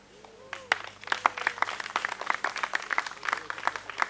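An audience at a University of Nairobi alumni association launch in Mombasa claps for a list of named guests: crisp, dense applause builds after a quiet start and holds steady, with faint voices in the room underneath.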